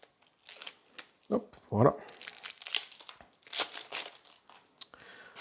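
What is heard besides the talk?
opening the packaging of the Shards of Infinity card game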